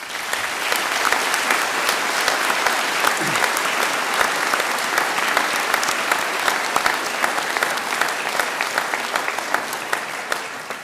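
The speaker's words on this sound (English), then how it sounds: "let's thank them with a well-earned round of applause" A graduation audience applauds a university School of Biological Sciences ceremony, with dense sustained clapping from a large crowd that carries on steadily throughout.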